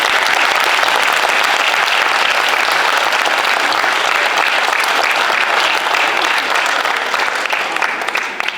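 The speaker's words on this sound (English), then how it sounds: "Can we all give a round of applause for her?" Loud, sustained round of applause from a packed school assembly hall at a secondary end-of-year gathering, honouring a retiring staff member; many hands clapping densely and evenly, easing slightly near the end.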